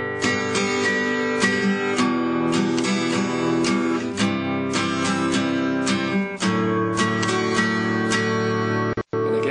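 A guitar strummed in a steady straight pattern, chords ringing continuously with regular rhythmic attacks, loud and close, with no voices, ending with a brief cutout near the close.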